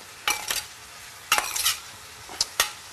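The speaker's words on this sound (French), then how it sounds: "on va commencer à mélanger nos courgettes et nos aubergines" Sliced courgettes and aubergines being stirred in a pan, a few short scraping bursts of stirring over a faint sizzle, close by and with no voices.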